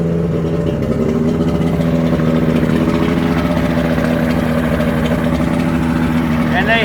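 A 90 hp OMC V-4 outboard motor runs steadily close by, loud and continuous, with a slight uneven stutter in its drone from old fuel.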